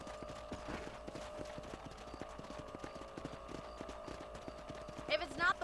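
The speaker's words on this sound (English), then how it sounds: "I was walking on my horse for a second" Horse hooves clip-clop in a steady, continuous rhythm while riding in the video game Red Dead Redemption, with a brief whinny near the end and faint background sound throughout.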